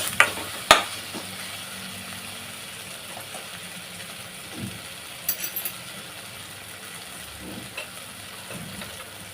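Ground coconut masala paste sizzles in hot oil in a pan for an Agri-style fish head curry, a soft steady frying hiss with a few clinks and stirring scrapes.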